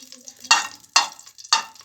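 Ghee melting in a cooking pot for a pot kebab, with three sharp sizzling bursts at regular intervals over a quiet background, close and fairly loud.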